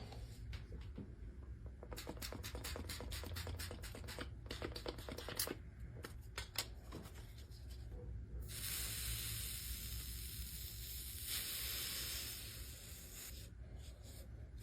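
A sustained, loud hiss and crackling sizzle of wet 1 mm maple on a hot bending iron, steady and close, with sharp ticks and clicks scattered through the first half before a bright steam-like hiss takes over.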